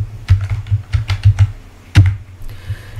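A name being typed into a spreadsheet on a computer keyboard: loud, close keystrokes in quick irregular bursts, with a brief pause before a final strong key press.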